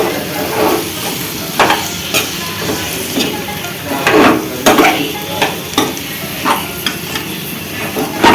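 Boiled chicken sizzles loudly in a pan for Rajahmundry special biryani, its steady frying crackle broken by repeated scraping stirs close by, with no talking.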